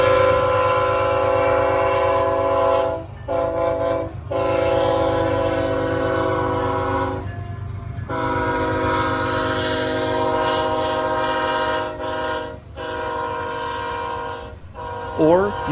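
Multiple railroad locomotives roll past close by in a loud, sustained rumble with clattering wheels, their horn sounding in long blasts that break off several times.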